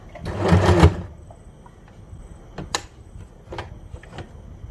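A sewing machine stitches a nighty in one close, whirring burst, followed by quieter handling clicks and light knocks.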